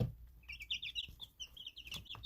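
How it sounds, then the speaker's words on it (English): Three young chickens, a black Ayam Cemeni among them, about a month old and partway between chicks and grown birds, give soft, quick chirps and clucks close by, scattered through the moment with no one talking. "are 3 young chickens just in the middle of growing up"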